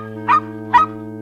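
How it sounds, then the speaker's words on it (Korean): Two short barks from a small dog, spaced evenly, heard over a steady humming tone. "강아지도 해줘."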